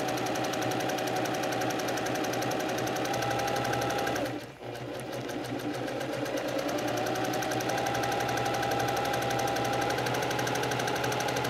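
A sewing machine runs steadily while stitching quilt pattern pieces along drawn lines, its fast even needle rattle close and continuous, pausing briefly for a moment before resuming at the same pace.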